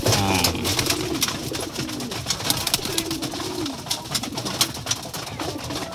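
Several pigeons cooing close by in low, rolling bursts, overlapping with fluttering and scratchy rustles.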